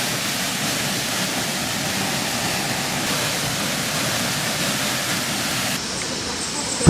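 The Po'oi river waterfall pours in a constant, dense rush of water, a steady broadband roar heard close and alone.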